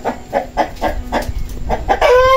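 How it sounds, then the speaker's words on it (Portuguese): Six hens in a chicken coop cluck nearby in a steady series of short, rhythmic calls, ending on a louder, stretched-out squawk. "Tem uma, duas, três, quatro, cinco, seis galinhas."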